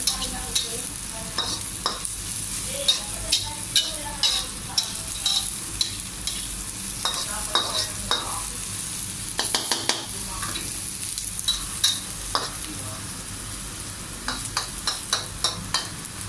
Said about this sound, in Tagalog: gigisa lamang po natin yung carrots